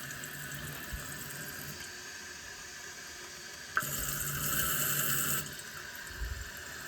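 Water hisses and trickles steadily as a toilet tank refills through a newly replaced flush valve, with a louder surge for a couple of seconds midway before settling back to a quieter flow.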